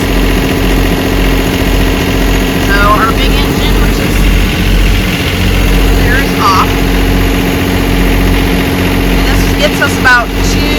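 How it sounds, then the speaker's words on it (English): A boat's small auxiliary wing engine idles with a steady low rumble and throb, continuous and close, with a few faint higher chirps over it. "Here's the wing engine."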